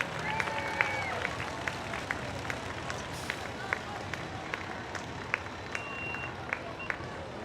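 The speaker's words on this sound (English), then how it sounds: "how about a nice round of applause for members of your Salisbury Fire Department" Scattered hand claps from a crowd lining the street at the 2017 Salisbury Jaycees Christmas Parade, greeting the fire department, ring out as sharp, uneven pops over a steady outdoor murmur that lasts throughout.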